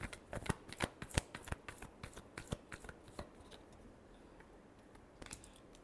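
Tarot cards being shuffled by hand in a quiet room, a dense run of crisp flutters and snaps that bunch up early, thin out toward the end and return briefly at the close.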